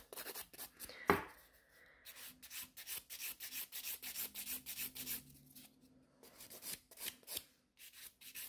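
Nail file rubbing back and forth on a gel nail extension, quiet rhythmic scratchy strokes in short bursts, close up, with a brief louder tap early on and short pauses between strokes.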